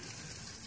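Water runs from a sink tap in a steady, even gush.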